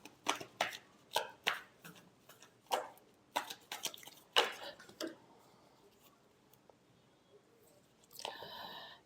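Tarot cards shuffled by hand for a reading: a series of soft, crisp slaps and flicks in an uneven rhythm, then a quiet pause and a brief, brighter riffle at the end, close and fairly faint.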